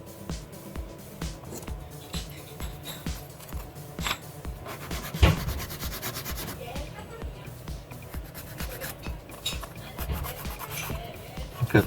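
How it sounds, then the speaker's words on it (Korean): Hand sanding a human figure sculpture with sandpaper: repeated rhythmic rasping strokes, close and moderately loud, with occasional handling knocks and a voice talking intermittently. "이렇게 구부러지니까 구부러지지 않게 뭐 이렇게 자꾸 사포질을 해야 되는데"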